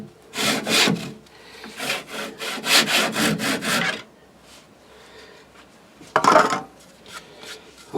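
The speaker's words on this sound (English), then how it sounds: "I'll just finish this cut off with a saw" Hand saw rasping through maple and American cherry for a sewing box, a run of steady back-and-forth strokes for about four seconds, then a brief pause and one more short scrape near the end.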